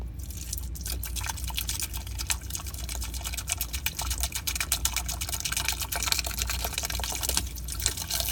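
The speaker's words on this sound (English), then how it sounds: "I'm going to pour the whole bottle in there." A whole bottle of water softener cleaner is poured into a Whirlpool water softener, giving a steady splashing, dripping liquid flow that runs continuously and fairly quietly from start to finish.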